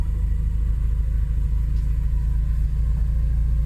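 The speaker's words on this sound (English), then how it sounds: "it's rolling pretty freely, so I've just chuck it in drive for a second" Porsche 944 rolling forward after more than twenty years off the road: a steady low rumble of the car close by, continuous and even, with no talk.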